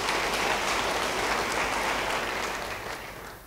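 A church congregation at a Christmas service claps in sustained, dense applause that holds steady and then begins to taper off toward the end.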